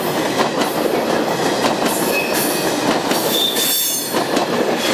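A train rolls past at a railway location, with loud continuous wheel rumble, rhythmic clickety-clack and high metallic squeals from the wheels, heard close throughout.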